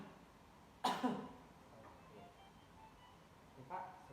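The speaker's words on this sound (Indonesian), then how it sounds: "Coba batukkan 2 kali Pak." A patient coughs twice in a quiet room during a breathing exercise, two short, fairly faint bursts about a second apart, with a softer throat-clearing sound near the end.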